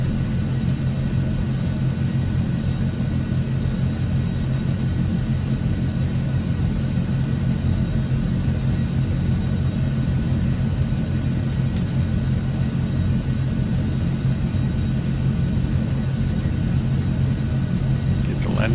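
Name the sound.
aircraft engine taxiing to runway, AzurPoly C160, video game Microsoft Flight Simulator 2020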